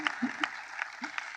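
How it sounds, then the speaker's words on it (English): Audience applause at an MLK Memorial 10th anniversary commemoration, faint and scattered, mixed with a speaking voice over a short stretch. "That's an applause line."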